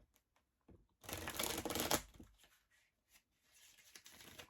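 Tarot cards being shuffled during a love reading, a dense papery riffling burst for about a second followed by lighter scattered card flicks, close and fairly quiet with no talking.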